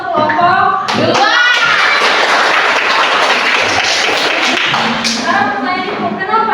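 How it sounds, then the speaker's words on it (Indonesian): A classroom of students claps for a student group, a brisk, dense round of hand claps lasting several seconds, with a teacher's voice before and after. "kita tepuk tangan dulu untuk kelompok 2"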